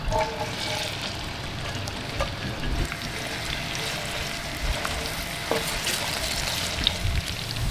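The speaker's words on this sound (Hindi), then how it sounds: "अब घी में प्याज को गोल्डन ब्राउन कर लेंगे।" About 250 grams of onions frying in ghee in a pan until golden brown, a steady close sizzle with occasional stirring clinks and crackles.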